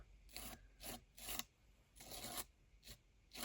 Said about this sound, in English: So as I'm scraping, I'm missing parts.